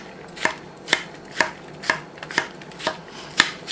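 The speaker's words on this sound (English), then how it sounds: "I just cut my cucumbers in half, then I put the flat side down, cut them again." A knife chops halved cucumbers into pieces on a board, landing eight crisp, evenly spaced strokes about twice a second, close and clear against a quiet room with no talking.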